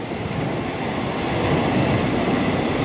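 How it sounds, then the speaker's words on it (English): A train rumbles past below at Union station in Melbourne, a steady loud roar of wheels and rail noise filling the whole stretch without pause. "See a train passing underneath us."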